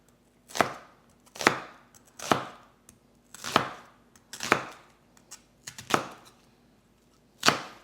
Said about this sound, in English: Of course, chopping time again.